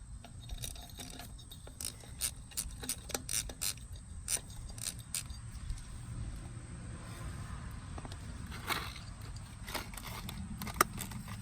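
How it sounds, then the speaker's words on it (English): A 5/16 inch wrench works loose a broken grease fitting, with faint, irregular metallic clicks and small clanks scattered over a quiet, low background hum; no speech. "we're going to take 5/16 inch wrench"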